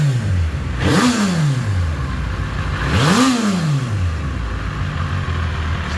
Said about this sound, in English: See the revs out.